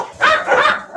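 Dogs bark loudly and close by, three quick sharp barks in about a second, with a slightly whiny, yipping edge.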